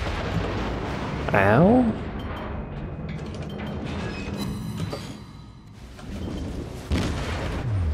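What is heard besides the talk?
ship detonation explosion in video game World of Warships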